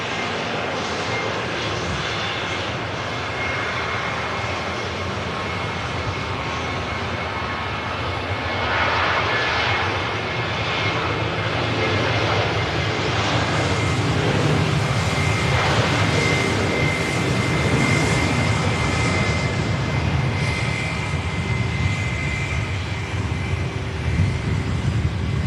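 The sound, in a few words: Lufthansa Airbus A321 jet flying past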